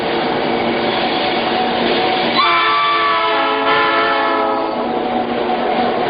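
A train at the railway station in San Mateo, its steady loud rumble running throughout, joined midway by a sustained horn with layered harmonic tones that holds for a couple of seconds before fading back into the rolling noise.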